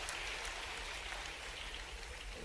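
Audience at an agricultural innovation event in Bhopal applauding, making a steady, faint patter of many hands clapping that continues evenly without pause.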